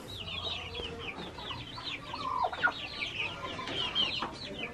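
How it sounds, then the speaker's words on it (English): Chickens on a ranch in Mexico clucking and squawking in a flurry of overlapping calls, close and fairly loud, with faint outdoor background noise and no talking. "Big ass chicken."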